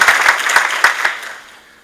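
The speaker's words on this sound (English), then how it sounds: "Just give them a warm round of applause." A crowd at an awards event claps, with a few distinct close hand claps standing out over a short burst of applause that dies away within about two seconds.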